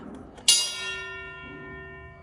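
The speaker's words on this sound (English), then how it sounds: "I can ring that bell for you." A fire station gong bell at the Cincinnati Fire Museum is struck once, close and loud, its bright metallic tone ringing on and slowly fading with sustained overtones.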